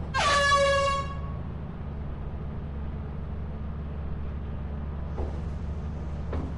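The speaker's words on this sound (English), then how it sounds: "Blow the air horn. Blow it." An air horn blares loudly inside the video game Lethal Company, one sustained honk of about a second, then a low steady engine-like drone with faint clanks continuing underneath.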